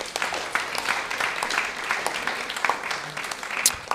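A temple congregation claps continuously for the Sunday serve-out team, a dense, sustained round of applause from a large crowd at moderate distance.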